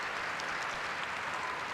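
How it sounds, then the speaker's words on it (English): Arena crowd applause at a European figure skating championship, a dense, even wash of clapping from a large audience across the rink, distant and steady. "Moving to centre ice now to take the applause,"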